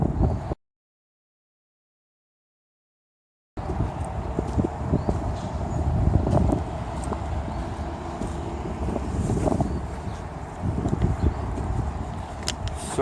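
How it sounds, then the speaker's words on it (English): Wind buffets the microphone outdoors during a heavy haul trucking trip in Ontario, a loud, rough rumble that drops out briefly near the start, then gusts on steadily with no speech. "Sorry, it's windy."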